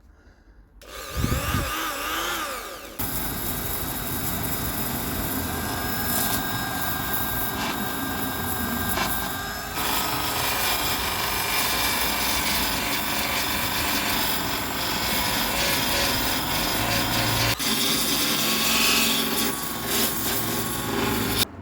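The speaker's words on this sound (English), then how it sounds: "I'm going to have a go with me file sander, finger sander." A small electric finger sander whines and rasps steadily for about twenty seconds, close by, after a brief start-up clatter, during work on a barn-find classic Vauxhall in a garage.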